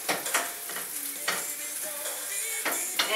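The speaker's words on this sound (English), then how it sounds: "Our veggies are nice and sauteed now." Vegetables sizzling and sautéing in a pan, a steady frying hiss broken by several scraping stirs from a utensil, close and without talk.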